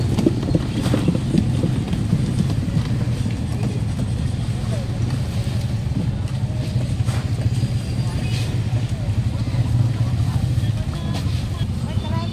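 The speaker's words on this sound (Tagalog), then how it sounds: "Tingnan niya pag may dumaan ng motor." A motorcycle engine hums steadily through a flooded street in Malabon, a continuous mid-distance drone with splashing texture running throughout.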